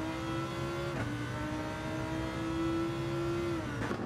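A Lamborghini engine in Gran Turismo 7 holds a steady, sustained drone with a rich harmonic tone through a corner, briefly dipping in pitch around the one-second mark and again near the end as the revs change.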